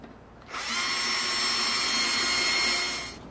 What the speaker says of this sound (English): And then we will begin to drill our pilot holes.